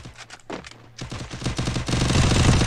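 Rapid gunfire in a competitive 4v4 video game match, starting with a few sparse shots and swelling into dense, overlapping automatic bursts that grow louder toward the end, with no voices over it.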